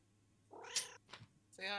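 Maya, a pet cat, meows close to the microphone, giving two or three short, tonal cries over a low background hum.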